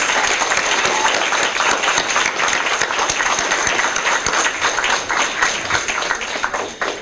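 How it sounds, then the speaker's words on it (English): A school audience of parents gives students at a DARE event another round of applause, loud sustained clapping from many hands that holds steady before tapering off near the end. "Can we give them all one more round of applause,"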